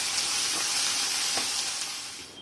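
Tempering spices sizzle in hot oil in a pan for a cabbage chutney, a close bright hiss that holds steady, with a couple of soft stirring touches, then fades slightly at the end.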